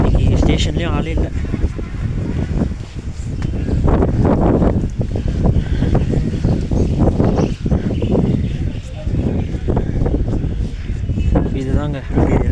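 Wind gusts across the Ooty railway station in the Nilgiri mountains on an evening when trains are cancelled, a loud, steady roar with buffeting on the microphone that runs through the whole stretch, with a voice briefly heard over it.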